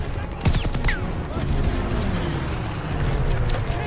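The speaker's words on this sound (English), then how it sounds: "Proper machine gun, guys." Machine gun fire in the Call of Duty: Vanguard campaign, with loud bursts and booms early on, then sustained battle noise and sharp gunfire cracks through the rest.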